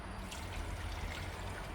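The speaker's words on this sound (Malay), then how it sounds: "Kita bubuh air satu liter" A liter of water is poured into a cooking pot, making a brief, soft trickling splash that is faint and close.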